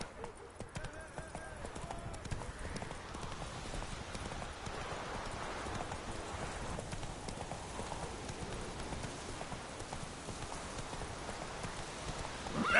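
Roach the horse trots in The Witcher 3: Hearts of Stone, a steady, close run of hoofbeats that carries on throughout among other game sounds, with a short whinny possible.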